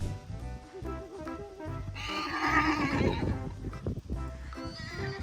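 Horses neigh repeatedly in a herd, one loud whinny rising in the middle among the calls of others, with faint hoof clatter underneath.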